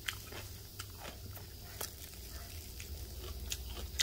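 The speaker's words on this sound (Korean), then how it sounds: "이게 60일 배추로 키워가지고 제가 하나 먹어볼까요?" Close, crisp crunching as a mouthful of napa cabbage water kimchi, made from home-grown 60-day cabbage, is bitten and chewed, a few sharp crunches scattered over quiet background, no talking.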